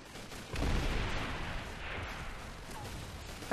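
A grenade blast in Call of Duty 3, a single heavy boom near the start that rolls into a long, noisy rumble and slowly fades.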